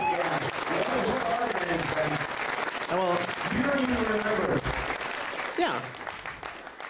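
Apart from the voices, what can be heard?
applause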